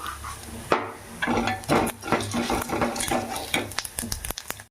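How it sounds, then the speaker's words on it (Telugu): Curry leaves and cumin seeds fry in oil over a low flame, a soft continuous sizzle broken by repeated scraping and knocking as a spoon stirs the pan close by. "సిమ్లో పెట్టుకొని చిన్న మంట మీద ఫ్రై చేసుకోవాలి"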